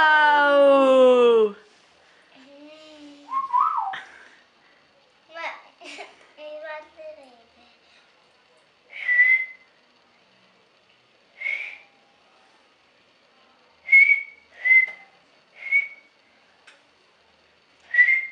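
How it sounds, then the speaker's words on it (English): A young child whistles a series of short, thin, high whistles, spaced out with pauses, close and fairly clear after some brief speech at the start. "Chanel is very happy because she learned how to whistle."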